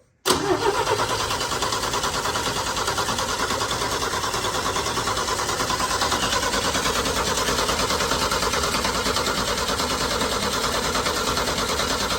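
A Chevy K10 squarebody truck engine catches and keeps running, a loud steady rumble with a busy rattling idle that holds close and even without pause.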